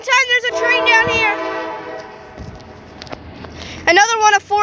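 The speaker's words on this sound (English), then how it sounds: "There's a train down here." A train horn sounds at a rail-watching spot in Folkston, Georgia, with steady blasts early on and another burst near the end, while people talk nearby over the rumble of the passing train.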